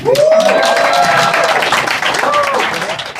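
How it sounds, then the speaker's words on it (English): A live comedy show crowd claps steadily and loudly while people whoop and shout over the applause. "give it one more round of applause for our comedians of the first half"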